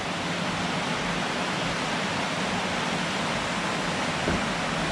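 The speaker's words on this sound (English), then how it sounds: "Nice big water wheel." Steady, dense rush of falling water from a large old water wheel at Thwaites Water Mill in Leeds fills the whole span, loud and continuous, with no voices.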